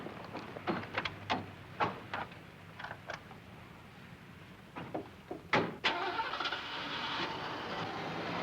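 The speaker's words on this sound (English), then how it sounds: "Everett, you take this car on back to the sheriff's office and wait for us yonder" A car door clunks a few times before the engine starts and the vehicle pulls away, a series of sharp knocks followed by a rising engine rumble, heard fairly quietly in a 1974 film scene.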